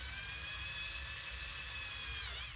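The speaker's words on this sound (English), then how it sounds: "I'd use a really big drill bit and just kind of drill straight in" Power drill with a big bit boring straight into a pumpkin: a continuous high, whining motor hum with a slight pitch dip near the end, close and steady, no voices.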